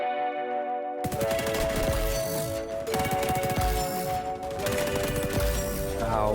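Rapid bursts of automatic gunfire in a first-person shooter video game, dense and continuous over sustained tonal game music, loud and close throughout with no talking.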